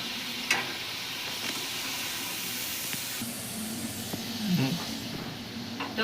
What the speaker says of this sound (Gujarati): હવે આને આપણે તળાવા દઈશું